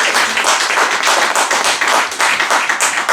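A church congregation claps together in loud, dense applause that runs steadily for a few seconds, with no voices over it.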